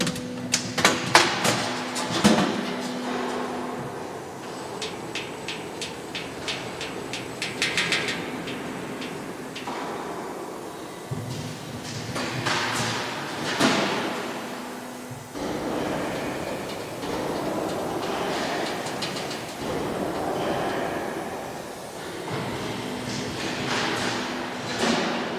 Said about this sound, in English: The machine is chain transmission.